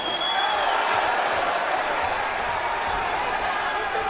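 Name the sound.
boxing arena crowd cheering at the Forum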